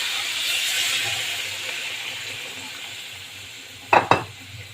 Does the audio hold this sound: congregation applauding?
no